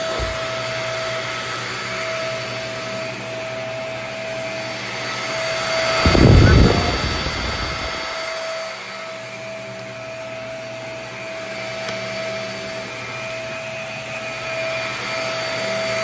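A Shark upright vacuum cleaner runs continuously, loud and close, with a steady high whine and a brief louder rumbling surge about midway, and no talking.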